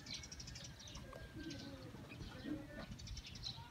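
Homing pigeons coo and chirp around their loft as they return from a flight, a soft steady murmur of birds with people talking nearby.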